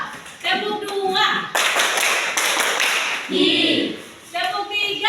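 In a classroom counting game led by a teacher, a group of children claps hands. Loud, dense bursts of clapping alternate with the adult voice and break off between rounds.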